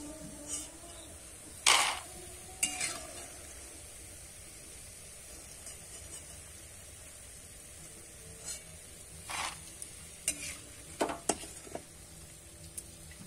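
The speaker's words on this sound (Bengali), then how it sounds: "এবার কিন্তু সবুজ কালারের বোঁদেগুলো ভেজে নেব।" Green-coloured boondi fry in oil under a low, steady sizzle. A ladle stirs them with scattered sharp clicks and scrapes, faint and intermittent.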